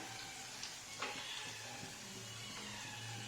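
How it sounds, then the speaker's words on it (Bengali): Onion, ginger and garlic frying in oil in a wok, giving a faint, steady sizzle with occasional soft scrapes from stirring, close but quiet. "কড়াইতে পেঁয়াজ আদা আর রসুন দিয়ে তেলের মধ্যে ভাজছি"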